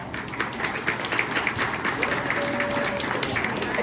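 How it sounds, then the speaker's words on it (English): Crowd at a swine quality show in Bethany clapping for a class of showmen, a dense, even patter of applause heard fairly close, with a voice or two faintly mixed in. "let's give this group of showmen a round of applause"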